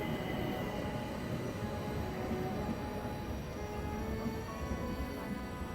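A train, the Orient Express, rumbles along at steady volume with a continuous low roar and faint high tonal whines over the wheels, no voices heard.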